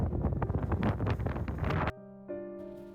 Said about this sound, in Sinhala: ගහගෙන යන්න වගේ හුළඟ අපිවත් එහෙට මෙහෙට යනවා